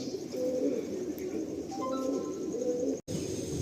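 A pigeon from a homebred new breed line coos softly in a loft over steady background hiss and faint insect-like chirps, several drawn-out low calls spread across the stretch, fairly close, with no talking.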